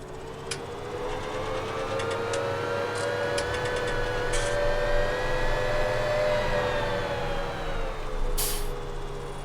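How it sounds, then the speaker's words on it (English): A tractor engine in Farming Simulator hums with a steady tonal drone that slowly rises and falls in pitch, with a few sharp clicks and a brief hiss. "I'm just going to really boost the tractor sound."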